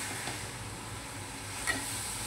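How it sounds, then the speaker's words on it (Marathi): Methi bhaji with grated coconut stirred in a pan over low heat, a soft continuous sizzle and hiss with a couple of faint scraping strokes, no talking. "प्रॉपर असं मिक्स करून घ्यायचं आहे।"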